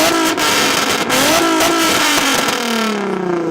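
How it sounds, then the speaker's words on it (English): A Nissan 350Z's VQ35 V6 revs through its exhaust, loud and close, with a raspy, brassy drone that climbs and falls through several throttle blips before settling into a steady tone. "It was, of course, the distinctive sound of the Nissan VQ35 engine."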